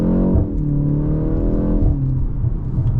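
A BMW G82 M4 engine revs hard under acceleration with manual shifts, its loud rising harmonic tones dropping at each gear change, heard close from inside the cabin.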